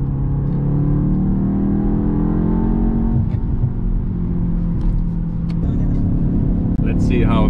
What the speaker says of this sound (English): Let's see how the BMW sounds.